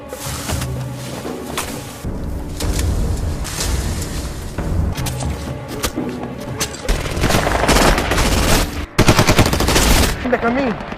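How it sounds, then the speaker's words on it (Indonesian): Gunfire aimed at an approaching vehicle during an ambush on farmland, heard as dense bursts of automatic shots and sharp cracks that repeat throughout, with faint voices underneath. "Saat kendaraan mendekat, peluru pun ditembakkan"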